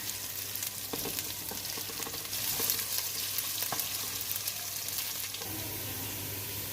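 Chopped onions sizzle steadily in a pan on lowered heat while browning for a tahari, a continuous close frying hiss with a few faint stirring clicks and no voices.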